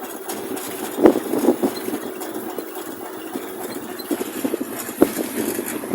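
A homemade electric bike motor, built from an old Desna bicycle, runs at full throttle with a steady mid-pitched whine and mechanical rattle, broken by a few sharp knocks, fairly close throughout with no talking.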